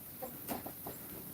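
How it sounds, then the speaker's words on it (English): English Jubilee Orpington chickens give a few soft, faint clucks in a cold Texas winter setting, with low background noise and no talking. "So yeah, so these are the English Jubilee Orpingtons. They're very beautiful birds."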